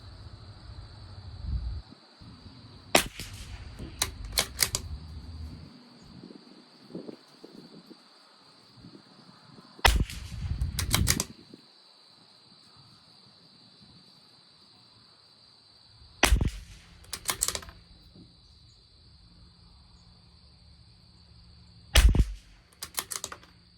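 Four sharp rifle reports from a Tikka T1X fired at a 50-yard target, single cracks spread out at roughly five-second intervals, each followed by a short clatter of handling noise over a quiet background.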